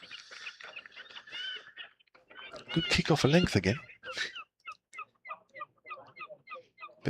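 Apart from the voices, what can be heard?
gulls squabbling and fighting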